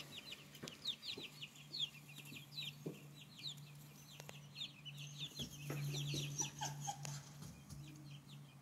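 Several young hens cluck and chirp in quick, overlapping bursts close by, with a low steady hum underneath.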